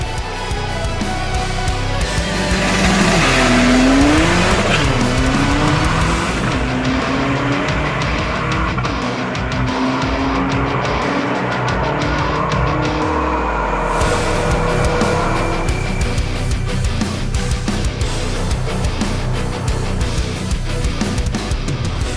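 A 1.9-litre drag racing car with thin tires, roughly 500 kg, screams through its run at a race event, a loud continuous engine roar with rising gear sweeps, a mid-run lull, then a sustained high-pitched howl.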